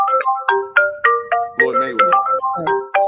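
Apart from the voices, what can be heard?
phone ringing for an incoming call on a call-in show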